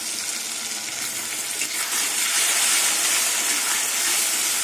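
Grated garlic, onion paste and tomato sautéing in hot oil for a catla fish curry with potato and pointed gourd, a steady close sizzle that swells slightly as it is stirred, with no talking.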